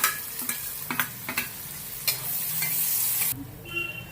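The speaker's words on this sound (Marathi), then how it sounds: "आता आपण कांदा परतून घेऊया।" Chopped onion sautéing in oil, a soft sizzle broken by a series of sharp spatula taps and scrapes against the pan, then a steadier hiss near the end.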